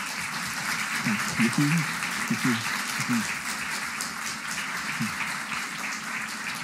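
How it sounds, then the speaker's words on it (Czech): Audience applause fills the room after a lecture on spy satellites, a steady dense clapping throughout, with someone briefly speaking over it near the start. "ještě bych jednou poděkoval potleskem, takže zatleskejme znovu"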